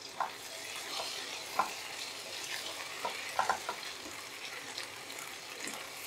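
Egg and potato curry with chopped coriander and garam masala gets stirred in a hot pan: a steady soft sizzle with a few sharp spoon clicks and scrapes scattered through it.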